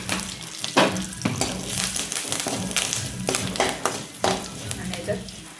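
Tempering spices with curry leaves and turmeric are stirred together in a pan over low heat for chivda. Scraping stirs and a soft sizzle come in bursts, with a few sharper knocks.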